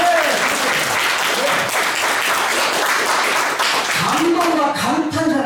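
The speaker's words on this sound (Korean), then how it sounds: "옆에 분에게 박수 한번 주실래요?" An audience applauds steadily throughout, a dense wash of many hands clapping at a lecture hall, with a few voices audible under the applause.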